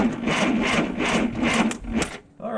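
Engine of a cheap used forklift cranking over after its solenoid is jumped, a steady rhythmic churning of about eight strokes that stops near the end.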